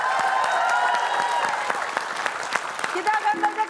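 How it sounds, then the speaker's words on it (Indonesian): Steady applause from a crowd at a quiz-show-style game, near and even, that gradually thins. A voice starts speaking over the last claps. "Boleh kita kasih tepuk tepuk tangan"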